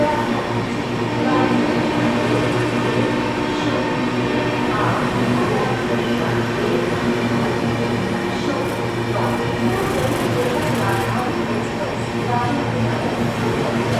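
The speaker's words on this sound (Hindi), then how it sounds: "चली गई आप लोगों की शालदा राजधानी एक्सप्रेस।" The Sealdah Rajdhani Express passes close by, a loud, sustained rumble of rolling wagons with rhythmic wheel clatter, a voice faintly audible beneath.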